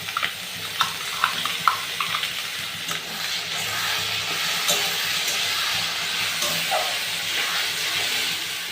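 Ground spice paste sautéing in oil over fried potatoes for a minced goat meat ghugni, a steady close hiss of frying with a few sharp scraping stirs near the start.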